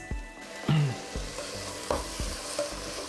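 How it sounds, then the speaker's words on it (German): Fresh tomatoes sautéing in a pot for tomato soup, with a soft steady sizzle broken by several sharp scraping stirs and clanks of a spoon against the pot, close and moderately loud. "Jetzt tue ich da einfach meine Tomate mit rein. Die kann ruhig auch so ein bisschen mit angedünstet werden."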